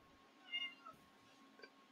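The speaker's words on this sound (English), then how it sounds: "here's my cat" A cat meows softly at an indoor door, one faint drawn-out meow followed by a quieter second call, close by in a quiet room.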